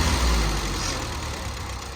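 A 1951 Ford 8N tractor engine idles after a governor replacement, with a steady low rumble and constant mechanical chugging, close and fairly loud, with no voices.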